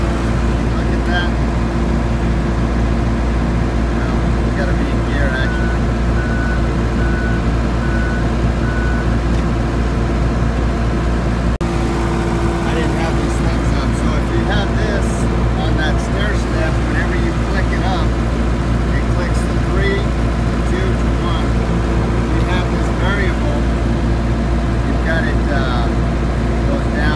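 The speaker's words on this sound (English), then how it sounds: "I'm gonna run this tractor at relatively low idle." A Komatsu D37E bulldozer engine runs at relatively low idle, a steady loud low rumble with a constant drone throughout, while someone talks over it.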